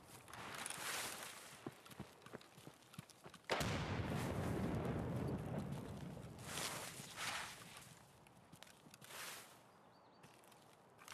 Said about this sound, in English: Throwing another nade to be sure.